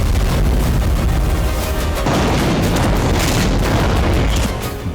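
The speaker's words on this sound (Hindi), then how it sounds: "पोक्रोवस्क में रूस की होवित्जर ब्रिगेड ने फ्रंट लाइन पर जबरदस्त हमले किए।" Russian howitzer brigade fire on the front line near Pokrovsk: a dense, continuous roar of heavy booms and blasts, loud and unbroken for several seconds with no voices.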